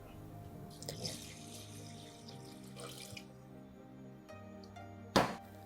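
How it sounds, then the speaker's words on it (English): Water pours from a tap into a rice cooker pot holding sushi rice, a steady running splash with faint drips, followed by a sharp clink near the end, with no talk. "and add the water to level 2."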